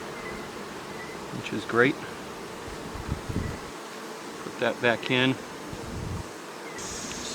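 Honeybees hum steadily around an open hive with frames of capped brood and nectar, a soft continuous buzz running under a man's intermittent nearby speech.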